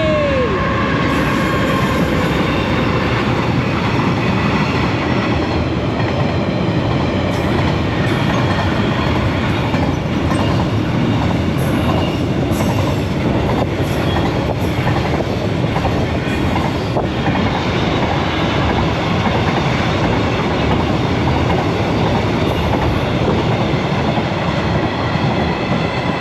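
Freight train passing a railway crossing at Howard, Queensland, Australia, a loud continuous rumble of wagons with rhythmic clickety-clack of wheels over rail joints and occasional squeals, close by and steady throughout.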